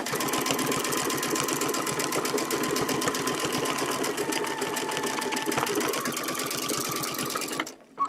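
A sewing machine stitches along a feather quilting template with a fast, steady mechanical whir and needle chatter, running continuously before stopping abruptly near the end.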